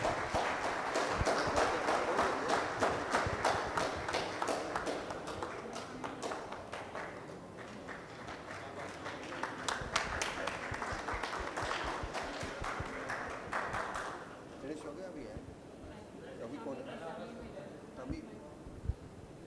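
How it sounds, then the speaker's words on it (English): Dense clapping from an audience at a Dell-themed corporate event's award ceremony, sustained and moderately loud, thinning near the end, with a voice speaking over it throughout. "A huge round of applause."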